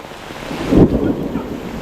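Heavy Kerala monsoon rain pours during a fishing outing, a dense, continuous roaring hiss with a gusty swell near the middle and no talk.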